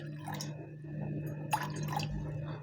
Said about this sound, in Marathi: आता यामध्ये आपण शेंगा उकडण्यापुरतं पाणी घालणार आहोत